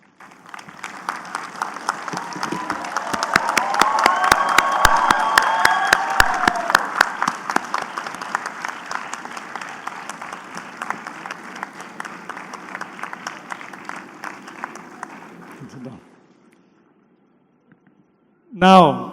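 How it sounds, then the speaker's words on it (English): Graduates at a Habib University convocation ceremony applaud their parents, producing dense, sustained clapping from a large crowd that swells and then tapers over about sixteen seconds before stopping abruptly. "Please, graduates, stand up and give your parents a big round of applause."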